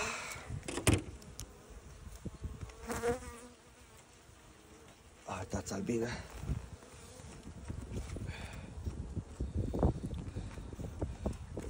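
Honeybees buzz around beehives outdoors in grass while a beekeeper dismantles the hives; the droning hum rises and falls in close, busy swells, with a short spoken remark and occasional handling knocks.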